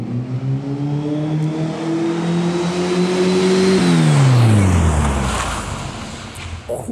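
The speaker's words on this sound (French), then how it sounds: "On va faire la scène où le taxi doit taper un frein à main devant l'aéroport." A taxi engine revs up steadily, then drops in pitch as the car does a handbrake turn in front of an airport and roars away, ending in a rush of tire noise.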